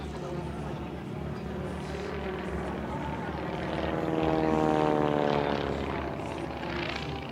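A propeller aircraft with an uprated engine with nitro injection flies past at an airshow in Leszno, a steady droning engine that swells louder mid-pass and then eases.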